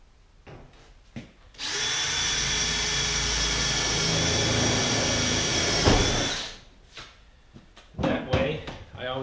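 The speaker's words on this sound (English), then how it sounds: "So now I'm going to drill the other hole" A power drill drills into steel for about five seconds, loud and close, with brief handling clatter and knocks before and after.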